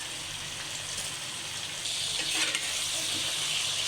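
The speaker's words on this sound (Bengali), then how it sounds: "সবজিগুলোকে ভালো করে ভেজে নেব।" Cauliflower, pointed gourd and beans with salt and turmeric sizzle steadily as they fry in hot oil. The close, continuous crackle grows louder and busier partway through, with no one speaking.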